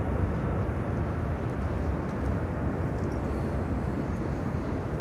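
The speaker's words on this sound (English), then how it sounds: "And then we have an A320 Sky Airlines from Lima, Peru, coming in." A Sky Airlines Airbus A320 from Lima, Peru, landing at Miami airport, heard as a steady, loud, broadband jet roar that holds evenly throughout with no voices.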